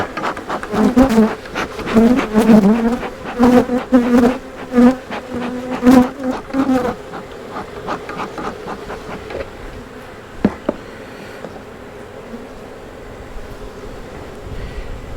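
Honeybees buzz loudly around an opened beehive during a hive inspection, a dense steady drone with louder swells in the first half that thins to a quieter hum with a few handling knocks.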